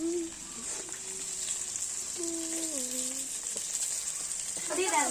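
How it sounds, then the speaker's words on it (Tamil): Tomatoes go into a hot pan and fry with a steady bright sizzle and hiss, close by, with a few light clinks, while a voice speaks briefly over it. "இப்போ தக்காளியை போடுறாங்க."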